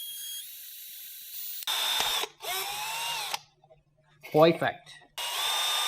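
A power drill bores through welded metal during a fuel pump install on a BMW N54 135i, whining in three separate runs, with a short spoken remark between them.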